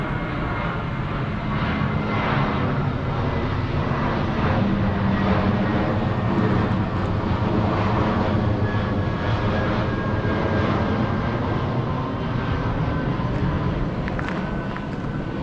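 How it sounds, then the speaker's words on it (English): An airplane on the approach path to Vienna Airport passes over a cemetery in Vienna, a steady broad roar of jet engines that fills the whole stretch at constant loudness, with no talking. "Must be on the flight path for Vienna Airport."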